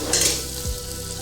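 Onion, ginger and garlic fry in a pan with a continuous close sizzle and crackle, one short low thump partway through, and no voices.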